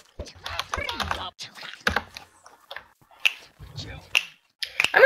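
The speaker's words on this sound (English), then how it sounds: "I will type in chat." Fingers tap on a computer keyboard in short irregular bursts of close clicks, with quick pauses between, mixed with brief bits of a voice.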